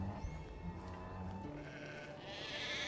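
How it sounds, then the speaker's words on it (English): Sheep bleat in the video game Medieval Dynasty, a few soft calls over a quiet ambient background in a farm village. "We got sheep over here."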